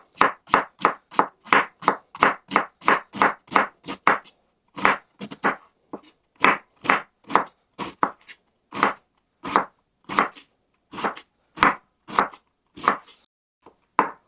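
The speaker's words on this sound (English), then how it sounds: "I'm going to just slice a piece off the edge here, because I know I'm not going to use half of the purple cabbage in this." A knife slicing purple cabbage thinly on a cutting board, a long run of crisp, rhythmic chops, fast and even at first, then slower and more spaced, close and clear with no talking.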